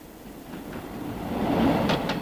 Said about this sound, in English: The train is now bowling along in top gear.